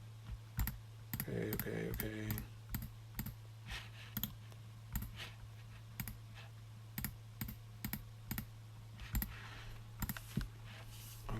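Computer mouse clicking on a Windows 7 desktop, a steady series of crisp, close clicks at irregular intervals over a low hum, with a brief spoken word.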